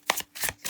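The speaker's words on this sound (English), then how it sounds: "I mean, it shuffles nicely." Deck of tarot cards on cardboard-like stock being shuffled, two or three quick riffling bursts of papery flutter, close and alone.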